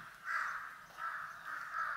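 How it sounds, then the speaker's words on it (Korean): Crows caw along a mountain forest trail, three or four harsh calls repeating in a steady rhythm, moderately loud and near, with no talk over them. "까마귀 소리가 굉장히 많이 들렸어요."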